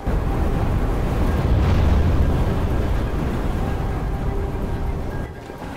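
Steady, heavy wind roaring in the snowy platform game Never Alone, a continuous broad rush that swells slightly and then eases toward the end.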